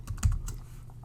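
A computer keyboard clicks in a short burst of a few keystrokes as code is typed, close and fairly quiet.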